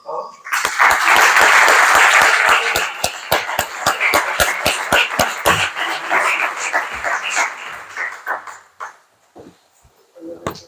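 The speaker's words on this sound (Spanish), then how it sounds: "Un aplauso, por favor." Audience applause at an academic lecture on Fernando III's art, a dense burst of clapping that swells loud, then thins into scattered claps and fades out near the end.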